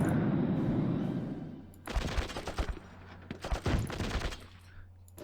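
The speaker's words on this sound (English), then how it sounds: "Let's try and bomb that unit a bit." A bombing attack on a unit in the WarPlan strategy game, heard as a rolling series of rapid explosive bursts and gunfire-like cracks in two dense clusters, loud and close after a low rumbling lead-in.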